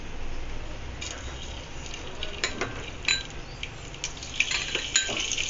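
Cloves dropped into hot oil and ghee for dum biryani make light sizzling, with scattered metallic clinks and taps from a utensil against the pan, close and moderately loud, no talk.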